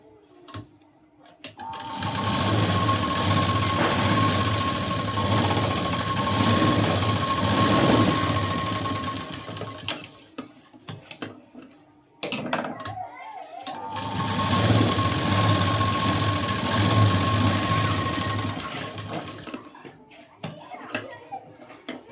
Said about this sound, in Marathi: इथे मी डबल शिलाई दिली